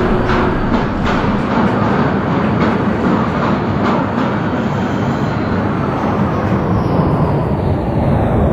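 An R142A subway train on the 6 line in the Hmmsim 2 simulator runs steadily, a loud, continuous close-up rumble with faint rhythmic wheel clatter throughout, and no voices.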